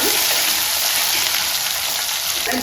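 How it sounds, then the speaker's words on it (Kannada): A large chopped onion frying in oil for a mixed greens palya, giving a loud, dense, unbroken hiss of sizzling close to the pan, with no talking. "ನೋಡಿ ಇದು ಹಾಕ್ತಾ ಇದ್ದೀನಿ ಇದರಲ್ಲಿ ಚೆನ್ನಾಗಿ ಫ್ರೈ ಮಾಡಿ"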